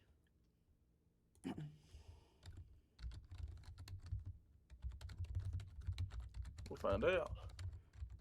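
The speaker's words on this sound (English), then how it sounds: "I'm typing it in right now." Computer keyboard typing in a room, light irregular key clicks running through most of the stretch, mixed with casual conversation about a baseball team.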